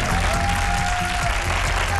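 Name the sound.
studio audience applause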